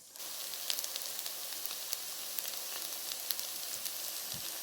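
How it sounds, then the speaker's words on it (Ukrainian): Steady sizzling of fritter batter frying in hot oil in a pan, with small crackles and pops scattered throughout, close and continuous with no talking. "Тепер ложечкою на сковорідку на розогріту олію викладаєте і жарите з обох боків, як блинчики."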